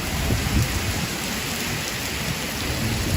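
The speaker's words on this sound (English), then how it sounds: "Yeah, it's pouring here, Sierra." Heavy rain pours steadily over Manhattan on a Friday night during Tropical Storm Elsa, a dense, continuous roar of water with no pause and no voices.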